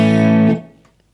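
A clean electric guitar chord played direct without amp or cabinet rings out loud and bright, holding steady for about half a second before fading quickly into silence.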